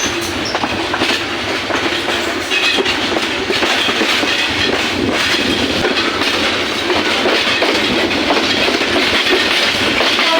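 A Kurigram Express passenger train running between Joypurhat and Dhaka, loud and steady from inside the carriage, with continuous rumble and rhythmic clickety-clack of wheels over rail joints throughout.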